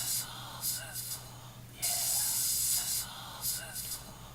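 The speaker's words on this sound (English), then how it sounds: "Like those sizzle sounds?" Smash burger patties sizzle on a hot griddle in bursts of loud, bright hiss that rise and fall, with a steady low hum beneath.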